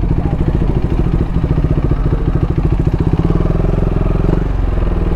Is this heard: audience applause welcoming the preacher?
no